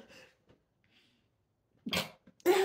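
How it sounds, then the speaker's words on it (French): A sudden sneeze bursts out after a quiet pause, followed by a second sharp sneeze-like burst close to the microphone, with faint voice fragments before it. "j'ai éternué, c'était trop bizarre"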